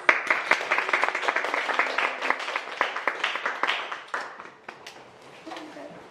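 A talk audience applauds after a Q&A session about the Asia Art Archive, with individual claps standing out clearly from a small crowd, steady at first and then thinning and fading toward the end.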